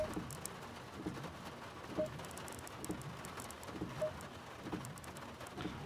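Rain patters steadily on a wet race track in the racing game Assetto Corsa Competizione, an even wash of hiss with faint repeating knocks underneath and no voices.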